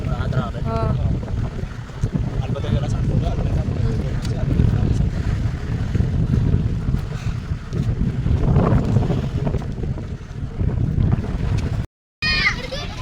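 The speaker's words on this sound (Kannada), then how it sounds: "ಹಾಂ ಬೋಟ್ ಬಂತು" A motor boat engine near Malpe beach, Udupi, drones steadily with wind buffeting the microphone, while voices, including a child's, speak intermittently over the rumble.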